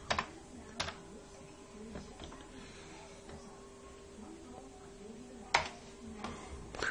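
Keys on a Commodore 64 keyboard clack in a few scattered, faint presses over a quiet steady hum, with sparse clicks rather than continuous typing.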